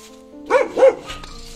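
A dog gives two quick barks, fairly close and moderately loud, over a faint background hum, followed by a soft rustle.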